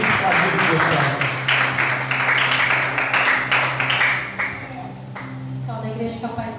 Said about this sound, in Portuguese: Que as palmas do Senhor